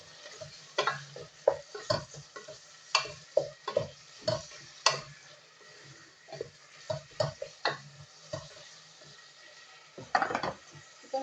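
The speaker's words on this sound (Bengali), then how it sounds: "কিছুক্ষণ নেড়ে নিচ্ছি" Meat with salt, bay leaf and ginger is stirred in a cooking pan, with a spoon tapping and scraping in a quick irregular rhythm over faint sizzling.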